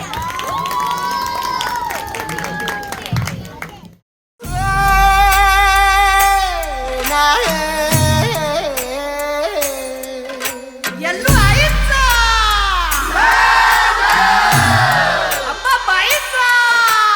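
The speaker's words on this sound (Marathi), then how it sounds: "सगळ्यांनी मुलींसाठी खूप जोरात टाळ्या वाजवा" A large crowd at a Jogwa event cheers, whoops and shouts loudly for a girls' dance performance, sustained and near, with loud music and singing running beneath the noise and a brief drop to silence early on.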